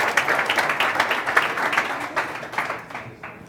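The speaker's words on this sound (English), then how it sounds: "All those guys, big round of applause." An audience at a commercial spaceflight conference applauds, a dense burst of clapping that holds steady, then thins and tapers near the end, heard alone without voices over it.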